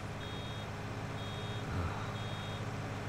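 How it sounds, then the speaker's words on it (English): A tractor in the Farming Simulator 19 video game sounds its reversing alarm, three evenly spaced high beeps over a low, steady engine drone. "That beeping noise, it's a clue."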